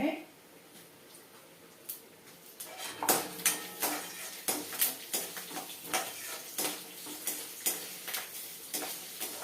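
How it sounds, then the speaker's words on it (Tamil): Green chillies go into a pan for tomato rice and are stirred, giving a run of rhythmic scraping clatters of a spoon against metal over a faint sizzle. "பச்சை மிளகாய் போடுறோம்."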